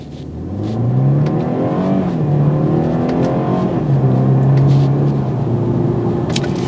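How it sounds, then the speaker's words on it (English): A 2022 BMW 230i coupe engine in comfort mode revs hard in repeated rising and falling surges, a deep throaty roar close by with no talking. "I like to stop right here in the middle of the road and give her gas."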